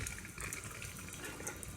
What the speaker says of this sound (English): we can hear that the water is on